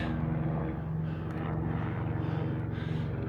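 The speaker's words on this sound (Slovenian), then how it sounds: "Helikopter brenči." A steady droning helicopter engine buzz overhead in the mountains fills the whole stretch at moderate level with no voices.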